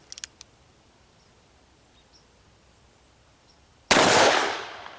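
A Smith & Wesson 686 Plus revolver fires a .357 Magnum +P round, one loud sharp blast that decays over about a second after a quiet stretch with a few faint clicks.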